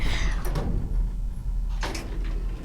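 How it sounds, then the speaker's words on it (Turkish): A door opens or closes indoors, with a short knock-like thud early on and a second sharper bump later, fairly close against a low background hum. "Kapı sesi var."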